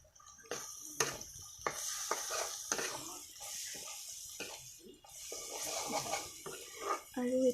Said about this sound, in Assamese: আৰু ইয়াতে অকণমান মই ৰেড চিলি দি দিম